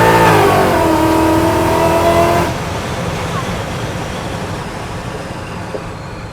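A Roush supercharged Coyote V8 in a 1969 Ford F100 roars hard at full throttle, then drops off into a lower, steady rumble as the revs fall, loud and close.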